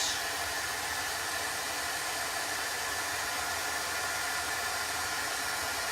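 A handheld heat tool blows hot air to dry a Chalk Couture chalk transfer, a constant close, loud rushing whoosh holding steady alone for the whole stretch.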